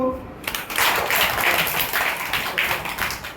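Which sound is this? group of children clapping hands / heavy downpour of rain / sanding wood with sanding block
group of children clapping hands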